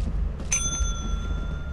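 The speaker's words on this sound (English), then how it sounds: "Can I ring the bell?" A bell is struck once, giving a bright ringing tone that sustains and slowly fades over a low background rumble.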